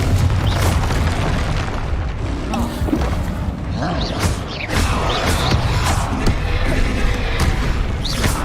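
Confringo blasting spells explode in Hogwarts Legacy gameplay, producing a dense run of loud, booming blasts and crackling bursts that follow one another with hardly a pause over several seconds.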